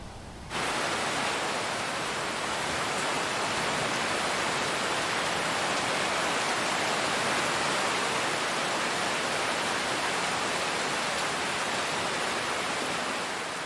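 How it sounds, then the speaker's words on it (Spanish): Heavy rain pouring steadily onto the Serengeti grasslands in the wet season, a dense, loud, continuous hiss of downpour close around, starting abruptly and holding unbroken with no voices or other sounds. "Y pronto comienza a llover con fuerza."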